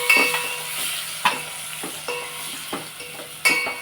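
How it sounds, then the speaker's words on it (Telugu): Tomato pieces frying and being stirred in a pan with turmeric over low heat, a steady soft sizzle broken by several distinct scraping stirs of the spoon, close up and with no voices. "ఇప్పుడు టమాటా ముక్కలు కూడా వేసేసుకుని బాగా మెత్తగా మెత్తగా అయ్యేదాకా"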